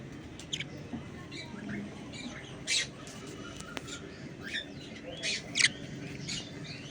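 Helicopter budgies chirping and squawking in a cage, scattered short sharp calls and squeaks over a low background, some faint voices nearby.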